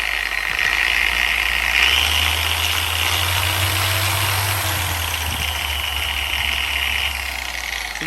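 A Shinemate dual action polisher runs as a steady, even motor whir with a smooth high whine, holding constant for several seconds with a slight shift in tone partway through.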